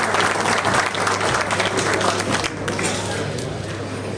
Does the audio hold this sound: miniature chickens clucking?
no